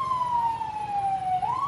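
A fire rescue truck's siren from the Tipadilla fire brigade, heard during a mayor's funeral procession, wails loudly and steadily in a slow falling sweep before rising again.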